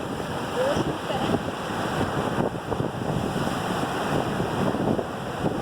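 Sea waves at Hawks Bay Beach in Karachi, a continuous rushing surf roar mixed with wind buffeting the microphone, steady and loud close to the shoreline.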